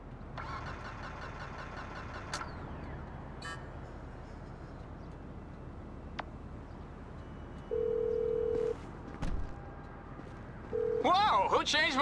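Mobile phone ringtone in GTA 5 playing as short electronic tones over a steady car engine rumble, with a sharp click between bursts.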